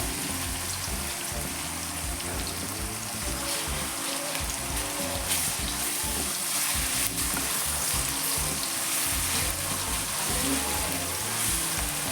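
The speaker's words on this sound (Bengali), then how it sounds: "এবার পেঁয়াজ কুচি ভেজে নেব" Chopped onions fry in hot oil for a chatpati dish, giving a steady, dense sizzle that runs unbroken throughout, close and fairly loud, with occasional stirring scrapes and no voices.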